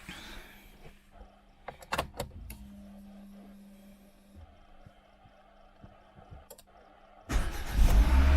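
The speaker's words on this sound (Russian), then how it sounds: "Так, теперь запускаем двигатель." A Renault Arkana engine is started after an oil service, with quiet clicks and a faint hum in a garage before the engine catches and settles into a loud, close idle at the end.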